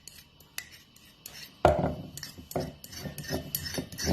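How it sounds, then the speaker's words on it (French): A metal fork scrapes and taps around the inside walls of a mug holding pudding chômeur batter, giving a series of close, sharp scrapes and clinks with a louder burst midway. "Là, avec la fourchette, ça se fait super bien. Là, je vais juste racler les bords."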